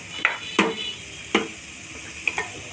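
Dal with raw mango seeds being stirred in a pot, a low simmering hiss punctuated by four or five distinct scraping knocks of a ladle against the metal, close and with no voices.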